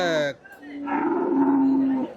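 A cow at a cattle market lets out a single drawn-out moo lasting over a second, close and clear, just after a brief bit of speech.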